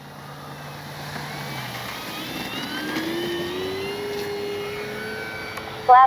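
An FMS P-47 Thunderbolt RC warbird takes off on a calm, windless day, its electric motor whine rising and sliding upward in pitch as it speeds off, with a steady rushing drone that grows slightly and a brief loud bump at the end.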